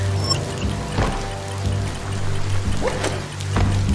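A rain shower falls in the Biomutant video game, a steady close patter and trickle of water with a few louder splashy bursts.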